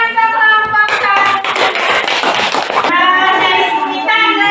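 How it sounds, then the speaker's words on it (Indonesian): Audience applause for the first group at an Islamic religious education teacher certification performance test, a dense burst of many hands clapping that swells and holds for about two seconds, with talk before and after. "tepuk tangan untuk kelompok satu"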